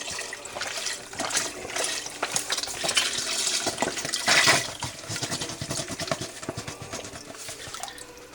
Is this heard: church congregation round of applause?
no